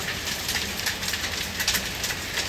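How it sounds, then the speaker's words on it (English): Heavy rain mixed with hail falls in Japan as a steady, dense hiss with scattered sharper patters, moderately quiet and with no voices. "it is raining hard."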